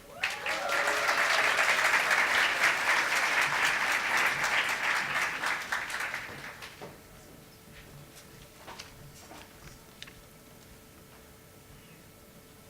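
Audience applause at a STEM research event welcoming a speaker to the podium: loud, dense clapping from a crowd for about six seconds, then fading out to a few scattered claps and quiet room tone.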